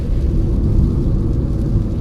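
Steady low road rumble inside a car at night on the Agra-Lucknow Expressway in rain, a dense continuous drone with a faint hiss of rain above it, no voices.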